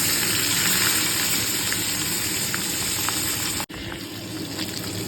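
Pabda fish frying in smoking hot oil gives a steady, hissing sizzle throughout, moderately loud and close, broken by a sharp momentary dropout near the end.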